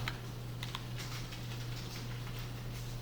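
Computer keyboard keys clicking in a quick, uneven run of typing, close and fairly quiet, over a steady low electrical hum with no voice.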